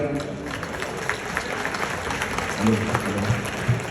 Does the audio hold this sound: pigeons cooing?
no